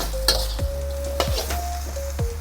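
Beef stir-frying with dark soy sauce in a wok sizzles steadily, with a few loud scraping spatula strokes and metallic clinks recurring roughly every second over the constant frying hiss; no talking.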